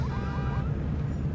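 An alarm triggered in the video game Watch Dogs, heard as a rapidly rising and falling electronic siren that stays steady and loud, with no talk.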